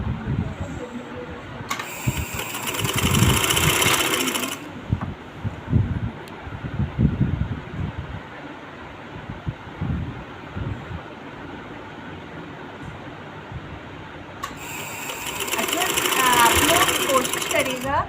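Domestic sewing machine running in two bursts while stitching a half-inch seam on a shalwar, a steady mechanical whir at the start and end with quieter room noise and handling sounds between.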